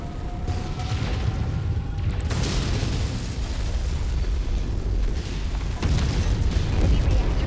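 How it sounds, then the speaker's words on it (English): A heavy mech's reactor breaches and explodes in MechWarrior 5: Rise of Rasalhague, a deep rumbling blast with thuds and bursts rolling through a dense battlefield din, loud and sustained with fresh impacts partway through. "Heavy reactor breach detected."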